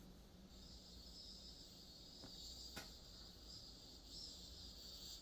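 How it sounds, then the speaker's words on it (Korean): Cicadas sing in a steady, high, buzzing drone with slight pulsing, moderately faint and heard alone with no voices. "매미는 뭔가 리듬을 타네?"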